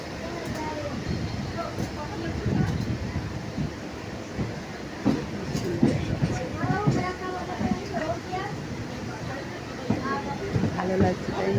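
A train pulling away slowly from a station, a low rumble with rhythmic clattering and squeaks, steady and moderately close, with people talking over it.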